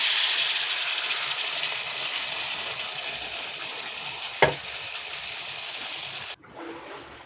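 Fried potatoes and cauliflower sizzling loudly in a pan after water is added, a steady close hiss with a sharp clatter midway and a sudden drop in level near the end.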